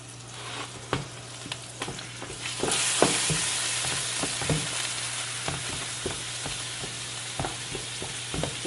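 Ground beef browns in a pan with a continuous close sizzle over a low steady hum, punctuated by frequent sharp stirring taps and scrapes throughout.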